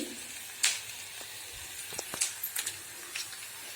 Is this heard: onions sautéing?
yes